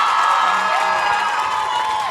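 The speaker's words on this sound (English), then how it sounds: "Can we give an amazing round of applause to SZA?" An audience roars with sustained applause and cheering for SZA at an interview, a dense wash of clapping and whoops with shouted voices running steadily throughout.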